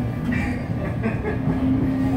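A metro train in Rio de Janeiro rides along with a loud steady rumble and rail hum, a faint tonal whine rising near the end and no clear talk on top.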